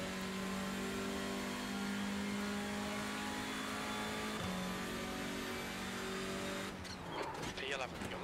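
A Hyundai Veloster TCR race car in the iRacing sim at Watkins Glen, its mid-pitched engine droning steadily at high revs, dipping briefly on a gear change before breaking up at the end.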